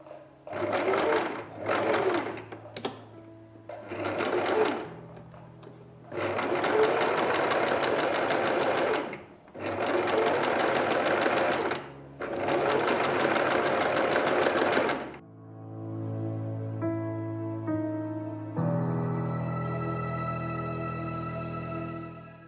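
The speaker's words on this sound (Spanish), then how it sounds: "puedo coser con un zigzag chiquito de 2 de largo y 2 de ancho, la puntada de zigzag" A Singer sewing machine stitching a small zigzag on bouclé fabric edges, running in several loud bursts of varying length separated by short pauses, then a steady tonal hum near the end.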